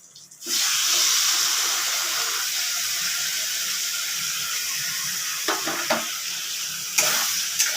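Ground spice paste hits browned fried onions in a hot pan for egg curry, setting off a steady broadband sizzle that holds throughout, with a few soft clinks and stirring scrapes near the end and no talk.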